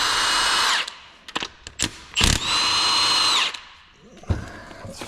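A power tool working a socket on a Nissan 350Z/370Z Nismo GT Pro differential during a rebuild gives several loud, close whirring bursts, separated by short clanks and pauses.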